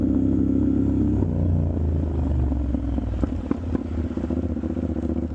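Steady low engine rumble of a motorcycle moving through New York City traffic, with occasional clatter and passing vehicle noise, loud and continuous.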